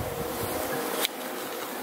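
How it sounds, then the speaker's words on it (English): Close, steady buzzing of honeybees fanning at a hive, a continuous droning hum with one short sharp tick partway through. "the ones that I brought over are fanning for the rest of the bees to come over"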